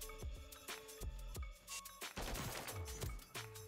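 Rapid SMG fire in Call of Duty: loud, close, steady bursts of crisp shots crackling one after another with brief pauses, and metallic mechanical clicks between them.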